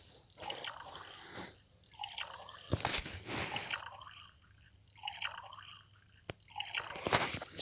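Liquid is poured into a bowl while making cake at home, with dripping, gurgling splashes in several separate bursts, close and fairly clear, and pauses between the pours.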